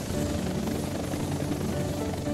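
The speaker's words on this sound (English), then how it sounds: "The helicopter's taken off into the air." A cartoon helicopter's rotor thrums steadily and loudly overhead, a constant beating drone with no voices.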